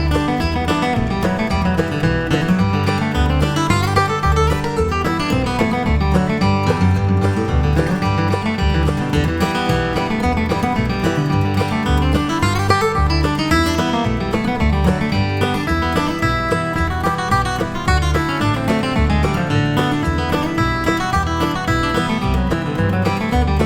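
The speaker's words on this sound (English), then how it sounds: "let's listen to this more advanced version of Temperance Reel up to tempo" Temperance Reel played briskly at about 120 beats a minute along with a backing track, a steady, busy melody with regular rhythmic accompaniment throughout, no talking.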